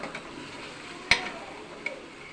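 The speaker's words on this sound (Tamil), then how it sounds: "இஞ்சி பூண்டு பேஸ்ட் போட்டாச்சு. நல்லா வதங்குது." Ginger garlic paste sizzles softly in a pan while cooking for a chicken biryani. It gives a low, steady frying hiss, with one sharp utensil tap near the middle and a fainter tap toward the end.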